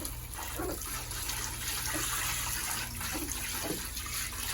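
Running water rinses a Pomeranian puppy during a bath at home, a steady close splashing hiss with light intermittent splatters as it pours over the fur.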